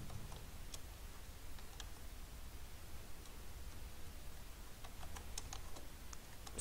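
Rapid, light key taps on a laptop keyboard while an address is entered into an online account form, irregular clicks over a soft background hiss with no voice.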